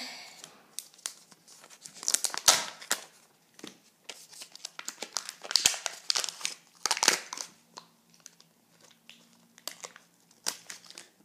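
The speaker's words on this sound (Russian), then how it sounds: "открываем последний киндерджой" A Kinder Joy egg's plastic foil wrapper being torn open and crumpled by hand, a series of close, crisp crinkles and rips in irregular bursts with quiet pauses between.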